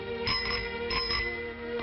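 A bicycle bell rings in a few quick, bright dings over a steady tonal background, close and fairly loud.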